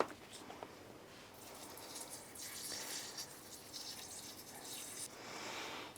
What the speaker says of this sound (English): I feel like this sprayer is just so intense and I'm getting water on stuff I don't want to get water on.